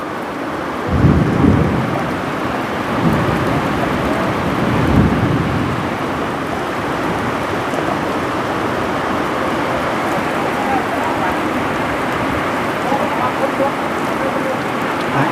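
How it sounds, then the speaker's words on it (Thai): A heavy thunderstorm lashes a rural village, with dense, steady rain roaring throughout and two deep thunder rumbles rolling in during the first few seconds, loud and close. "มาพร้อมฟ้าพร้อมฝนพี่น้องเลยมื้อนี้"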